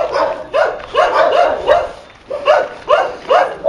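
Several dogs bark in repeated bursts at night on a street in Baguio, fairly close and loud, with short yips between volleys and a brief lull in the middle.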